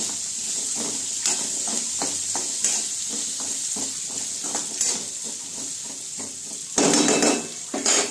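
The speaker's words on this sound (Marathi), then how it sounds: "आपण आता बटाटे व्यवस्थित छानसे मिक्स करून घेऊया आणि थोडासा गॅस कमी करू।" Salted potato pieces for a dry potato bhaji are tossed and stirred in a pan, a run of close scraping and clinking utensil strokes over a low hiss, with a louder clatter near the end.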